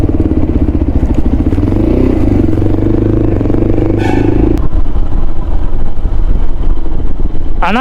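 A motorcycle on a highway road runs with a loud, steady engine drone and heavy wind rumble close to the rider, the engine note dropping as it slows.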